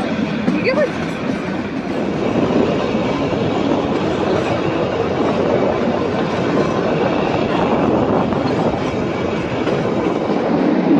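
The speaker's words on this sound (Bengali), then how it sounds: "তো আমরা এখন টয় ট্রেনে যাচ্ছি।" A toy train runs on the Shimla mountain line in Himachal Pradesh, a loud continuous rumble and clatter of wheels on track heard from inside the carriage, with people talking faintly beneath it.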